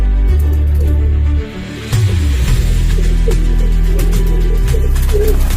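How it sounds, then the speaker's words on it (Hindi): Pigeons coo steadily in low, throaty rolls, several birds close by, over a constant loud low hum. "अभी कुछ कबूतर ऊपर बैठे हैं, तो भी देखें आहिस्ता आहिस्ता नीचे आ रहे हैं"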